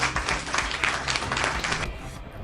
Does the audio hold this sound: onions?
no